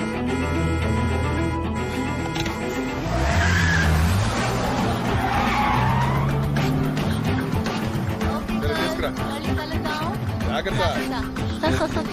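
A vehicle pulls away with a loud, drawn-out tire skid and squeal over a revving engine, up close, while a voice talks over it.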